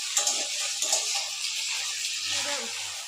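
Thin-cut potato strips frying in hot oil while being stirred, a steady bright sizzle with a few scraping stir strokes and low clunks of the utensil against the pan.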